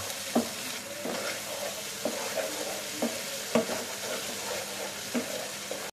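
A nut and yogurt mixture hits fried onions in a pan for a dhaba-style chicken bharta. A soft, continuous sizzle runs under regular spoon strokes that scrape about once a second.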